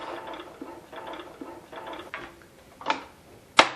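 A Cooper Pro Deluxe Mk II sewing machine is turned through a single revolution by hand, giving a run of close, soft mechanical clicks and ratcheting. Two sharper clacks follow near the end, and nobody speaks.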